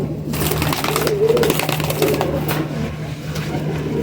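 Soft pigeon cooing sits over a constant low hum, with faint rustling and clicks in the background.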